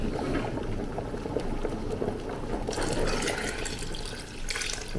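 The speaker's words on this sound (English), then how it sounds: "this is my coconut juice already juice out, so I'm gonna pour it into the pot now" Coconut juice is poured from a container into a cooking pot for Jamaican peas soup, giving a steady, close splashing and gushing of liquid that swells louder partway through.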